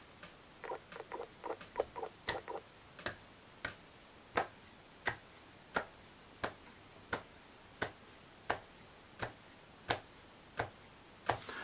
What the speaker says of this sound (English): as I started to clap there, I didn't get it perfectly in time